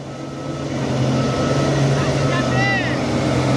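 An engkel 235 truck engine strains loudly on a steep, rough rocky road, a sustained low roar that builds after the first half second and holds steady, with faint squeaks above it.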